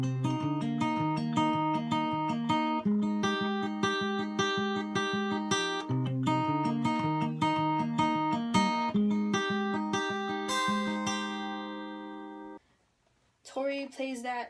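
Fingerpicked acoustic guitar pattern on the high E and lower strings for a song, a steady, close rolling arpeggio of repeating notes that runs for about twelve seconds, rings out briefly, then stops as a voice begins to speak.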